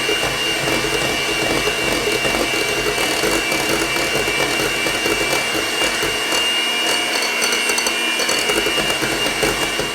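A blender whirs continuously, mixing a chocolate peanut butter protein mousse, a loud dense motor drone with churning texture and no pauses, no voices over it.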